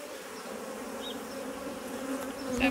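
Honey bees buzzing during a HiveIQ beehive inspection, a steady close droning hum with a few individual bees zipping nearer, continuous throughout.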